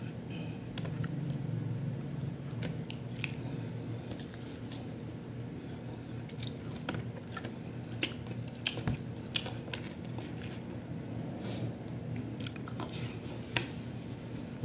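People eating crunchy food together, with scattered close crunching bites and chewing clicks over a steady low background hum, the crunches repeating irregularly throughout.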